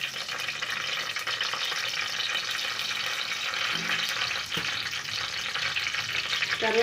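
Whole biryani spices frying in hot oil in a pan make a steady, close sizzle that runs the whole time without a break, with a few faint clinks partway through.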